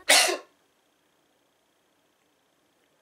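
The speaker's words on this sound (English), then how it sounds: "I really had to sneeze." A single sharp, close sneeze bursts out at the start, followed by near silence.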